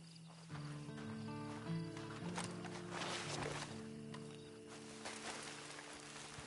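Horse in a video game, soft hoof clip-clops and a short snorting whinny over a steady low musical drone, fairly faint and without speech.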